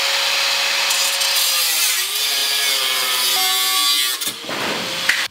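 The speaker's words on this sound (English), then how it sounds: "we have survived cutting into the gas tank" A power tool cuts steadily and harshly through a scratch-built metal gas tank for a BMW E30 during fabrication. The gritty whine holds for about four seconds, then sputters and shifts as the cut ends.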